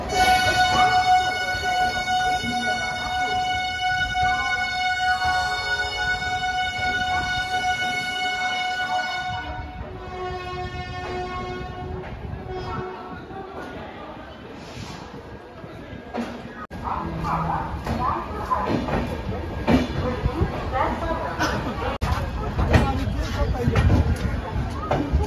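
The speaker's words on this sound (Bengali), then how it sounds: "আমাদের ট্রেন হাওড়া দিয়ে ছেড়ে বেরিয়ে পড়লো" Train pulling out of Howrah station, a long sustained horn blast with tonal harmonics for several seconds, then rumbling wheels and carriage clatter building over crowd babble and voices on the platform.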